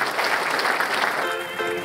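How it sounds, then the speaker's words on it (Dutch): Applause from the audience at a New Year reception, a steady dense clapping from a crowd that carries on evenly for a couple of seconds, with a voice coming in faintly toward the end. "Dus graag applaus voor Robert en Max."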